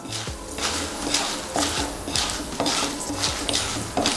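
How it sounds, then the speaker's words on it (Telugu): Dried red chilies fry in a pan over a medium flame, with repeated metal clinks and scrapes of a utensil stirring them and a faint sizzle underneath, steady and close. "ఈ ఎండుమిర్చిని కూడా కొంచెం ఫ్రై చేసుకుందాము"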